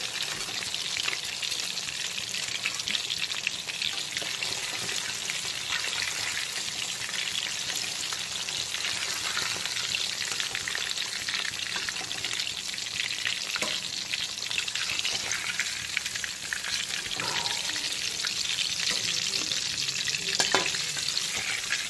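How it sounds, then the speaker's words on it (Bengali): Pieces of katla fish coated in salt and turmeric fry in hot oil, giving a steady, dense crackling sizzle that holds evenly throughout with a few sharper pops, close and with no voices. "এখন বাকি যা লবণ হলুদ মাখানো মাছ রয়েছে সেগুলোকেও একইভাবে ভেজে তুলে নিচ্ছি"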